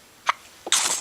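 A child gives a single quick sneeze, a short intake of breath followed by a sharp close burst, alone without talking.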